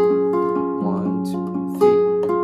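Chords from the verse of a song ring out clearly and alone, with a few struck changes sustaining one into the next.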